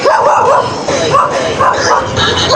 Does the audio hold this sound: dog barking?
yes